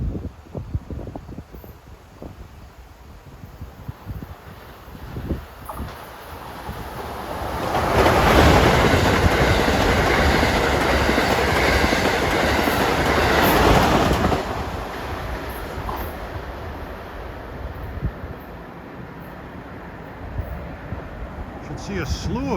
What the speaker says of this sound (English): Here comes Amtrak 2167, Boston to Washington. He's heading west on track 2.